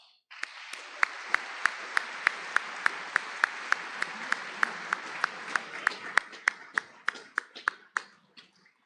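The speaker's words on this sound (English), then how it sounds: "congratulate all of our scholarship recipients with a round of applause" A crowd applauds for several seconds at a scholarship awards night, with sharp individual claps standing out at an even rhythm before it fades out.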